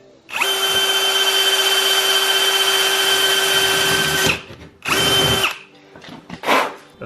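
A power drill bores through a plastic bumper into a steel fender, a loud close whine held steadily for about four seconds, then a shorter second burst followed by a few clunks.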